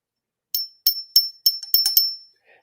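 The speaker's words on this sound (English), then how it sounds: "Little bell." Small vintage Japanese bell on a snowball Christmas ornament rings in six or seven quick bright strikes, each with a short shimmering decay, close and clear against silence.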